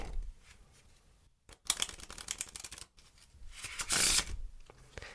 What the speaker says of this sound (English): So let's give the deck a good shuffle.